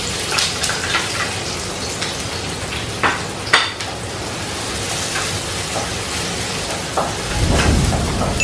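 Onion sautéing in a hot pan for pancit malutong, a steady broadband sizzle and crackle with a few louder pops, sounding close and continuous, with a deeper rumble rising near the end.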